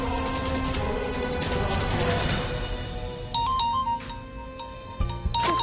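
A phone ringtone chimes in short repeating electronic tones over background music, with a few sharp knocks near the end.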